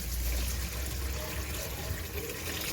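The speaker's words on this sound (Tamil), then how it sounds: "நம்ம இது கூட வந்து குழம்புக்கு தேவையான தண்ணி சேர்த்துக்கலாம்." Water is poured into a pan of egg curry after the onions are sautéed, a steady faint gushing and splashing lasting a few seconds, close to the pan and fairly quiet.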